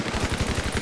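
Rapid gunfire from a battle royale video game rattles in a quick burst of repeated shots, loud and close, with no voices.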